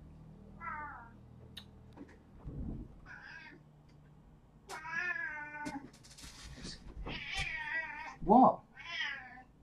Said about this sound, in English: Be quiet, cat.